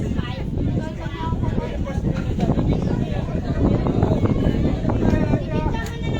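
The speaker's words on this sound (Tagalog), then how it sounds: "Lakas ng hangin." Strong wind buffets the microphone at an outdoor youth baseball game in Zambales, a constant loud rumbling roar running throughout while people talk over it.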